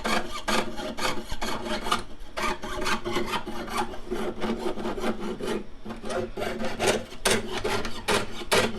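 A jeweler's saw frame cuts through metal during stone-setting prep for an irregularly shaped stone, producing a steady, close rasping with rapid back-and-forth strokes that continue without pause.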